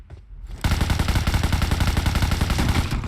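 Automatic gunfire in the mobile battle royale game PUBG Mobile, a rapid, steady burst of loud, close shots that starts abruptly after a brief quiet moment and keeps going for over two seconds.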